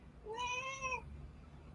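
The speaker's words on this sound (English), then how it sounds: "That's the cat." A domestic cat gives a single clear meow, about two-thirds of a second long, fairly close by, against a quiet room hum.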